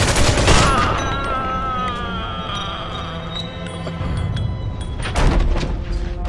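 Gunfire in the Mafia II video game, a burst of shots followed by echoing reports and a second loud blast near the end, with no talking.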